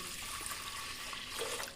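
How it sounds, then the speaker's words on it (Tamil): Water runs steadily into a pressure cooker to rinse moong dal, a soft continuous splashing heard close up and alone. "நல்லா தண்ணி ஊற்றி கழுவிக்கணும்"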